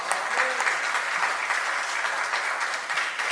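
A church congregation at a Sunday afternoon service gives sustained applause, a dense, steady patter of many hands clapping together that holds at an even level throughout, and no voices can be heard.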